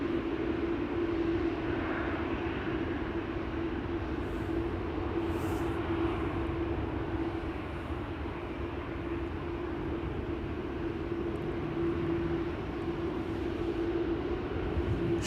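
Cathay Pacific Cargo freighter, a 13-year-old jet, departing Amsterdam Schiphol for Frankfurt: a steady, broad engine roar with a constant low hum, holding at an even level throughout without talk.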